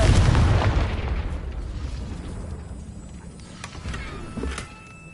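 A Confringo blasting spell goes off in Hogwarts Legacy, a heavy booming burst at the start that rumbles and decays, followed by scattered debris crackles and a smaller late impact.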